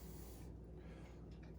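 Coconut cooking spray hisses from a can into an air fryer basket, a short soft burst that cuts off abruptly, followed by faint handling sounds in a quiet kitchen.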